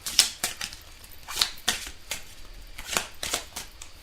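Tarot cards being shuffled by hand, a series of crisp papery riffles and slaps repeating in irregular bursts, close and fairly quiet with no talking.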